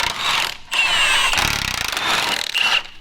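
Wrenching and clanking as nuts are loosened on the motor mounts of a burnt-up Jeep, close and fairly loud, with brief ratcheting and metallic tool scrapes running across the whole stretch.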